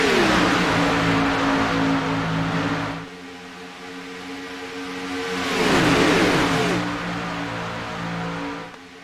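Stock cars race at Daytona in the Signature Cup, with loud sustained engine roar from several cars, a dip as one pack passes, then a second surge of revving engines sweeping by, no talk.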